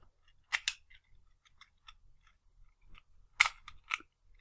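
Sharp plastic clicks of a Transformers Combiner Wars Hot Spot Voyager toy figure being snapped into place, a double click followed by faint fiddling and another cluster of crisp clicks, close and alone.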